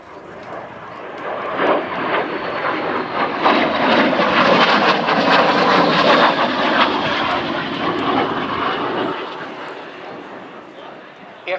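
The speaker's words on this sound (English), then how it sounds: "demonstrate the hovering capability of this Royal Navy Sea Harrier" A Royal Navy Sea Harrier FA2 jet at an air show gives a loud, sustained roar that swells and fades over several seconds, with an announcer talking over it.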